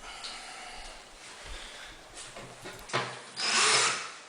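A power drill whirs in short bursts, driving screws into wooden wall cabinets, ending in a louder, sustained spin as a screw is driven home; no talking.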